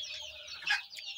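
Chicks of desi hens on a home poultry setup, faint high-pitched clucking and peeping, close and quiet, with one slightly louder call near the middle.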